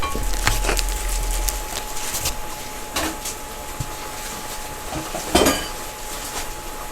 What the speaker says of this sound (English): I have some ground turkey. I'm going to break it apart and cook it until it's almost completely brown.